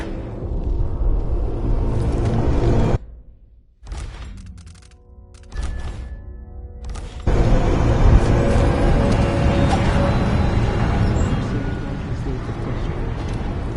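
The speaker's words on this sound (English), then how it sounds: "Dust storm coming." A dust storm rumbles in Dishonored 2, a deep, steady roar that surges loudly, drops away briefly, then returns stronger and sustained.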